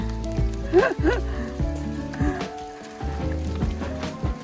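Hail falls on a car in Sweden, a crackling, sizzling patter of ice pellets hitting the body, steady and close, with a voice talking over it.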